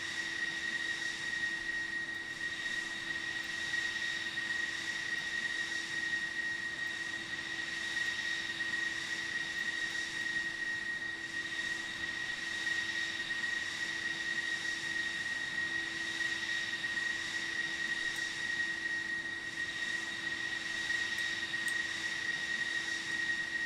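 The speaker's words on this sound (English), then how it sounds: "Do you hear the sound of another F-15?" An F-15 fighter jet in Roblox at a virtual aerobatic team festival, heard as a steady, unbroken engine roar with a constant high whine and a low hum, holding the same loud level throughout with no voices.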